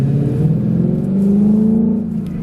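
A Ford S197 Mustang engine revs loudly and close by, a steady throaty roar that swells and then eases slightly, with no talking over it.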